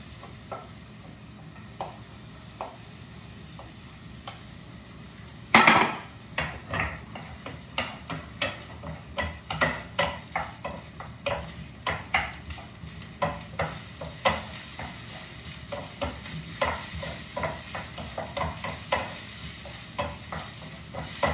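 Onions sautéing in hot cooking oil, a steady sizzle with repeated stirring scrapes in a pan, building after a sharp clatter as they go in.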